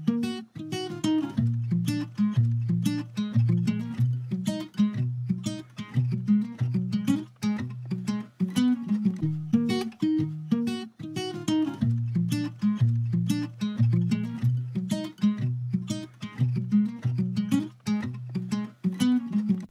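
A steel-less acoustic guitar plays a simple lick over a chord progression in 3/4 time, bright plucked notes and strummed chords repeating in a steady lilting rhythm, close and clear with no voices.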